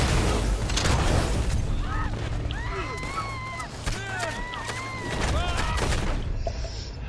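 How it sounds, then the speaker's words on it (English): Gunfire in Red Dead Redemption 2 during a King of the Castle match at Armadillo, loud bursts and cracks with whistling ricochet-like tones mixed under excited voices talking over the action. "Someone keeps shooting me."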